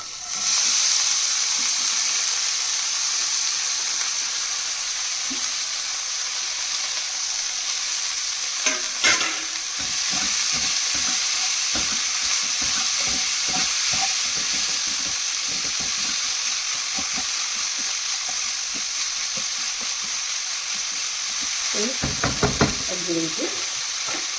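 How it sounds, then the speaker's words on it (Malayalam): Continuous sizzling of banana flower frying in coconut oil after mustard seeds, with intermittent stirring and scraping clatters, close and fairly loud, plus a brief clang near the end. "കടുക് പൊട്ടി ഇനി കൂമ്പിടുക."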